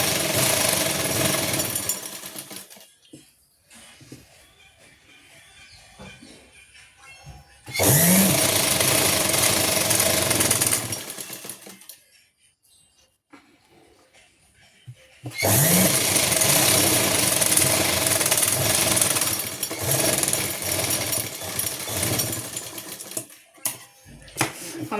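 A sewing machine stitching elastic onto palazzo pants, running in two long loud steady runs with quieter pauses between, while someone talks during the gaps.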